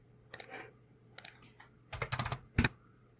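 Fingers tap a computer keyboard while entering a number at a program prompt: a few quiet, close bursts of crisp key clicks separated by short pauses.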